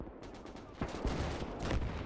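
Gunfire in the Gates of Hell strategy game as soldiers are shot: a dense, moderately distant battle din with several sharper shot cracks punching through continuous noise.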